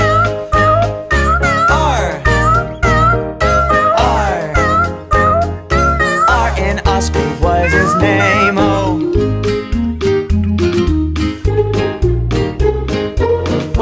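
Cartoon-style cat meows ring out repeatedly within a bouncy children's nursery song about a farmer's cat, sitting amid a steady full band backing with sung vocals throughout.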